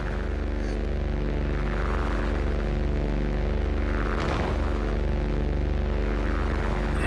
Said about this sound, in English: Sounds like a plane.